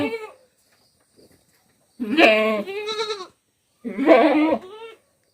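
Goats on a goat farm bleat several times, one short call followed by two longer wavering bleats after pauses of near silence, close and clear with no talk.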